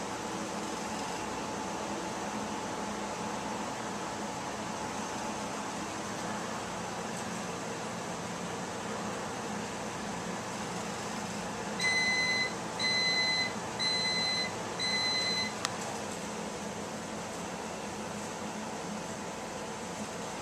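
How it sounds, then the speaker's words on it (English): Steady hum of a running microwave oven, then four evenly spaced high beeps near the end, clear above the drone. "Making sure that this is operational and functional microwave."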